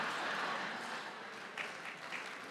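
Audience applause at a business session of a 2019 conference, a broad steady wash of clapping from many hands that carries on for a few seconds without any talk.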